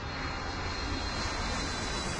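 Airplane rolling along an airport taxiway at Hartsfield–Jackson Atlanta International Airport, a steady broadband engine roar holding at a constant level throughout, close and without talk.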